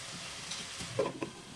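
Potatoes sizzle in a pan of spiced masala, a steady soft frying hiss with a few light stirring clinks near the end, close and moderately quiet.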